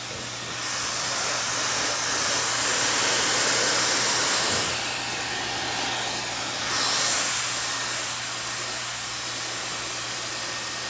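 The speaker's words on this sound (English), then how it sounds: "what blow dryer are you using? What blow dryer? Yeah. Dyson." A Dyson hair dryer blows steadily while hair is blow-dried in a salon, a continuous loud airy whoosh with a low hum that swells and dips slightly as it moves, with no talking.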